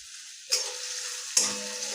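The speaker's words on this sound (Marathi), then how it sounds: "तेल थोडंसं गरम झालं की याच्यात मध्यम आकाराचा एक कांदा मी बारीक चिरलेला तो घालायचा" Finely chopped onion hits hot oil in a kadai, setting off two sudden bursts of loud, steady sizzling that hiss on without a break.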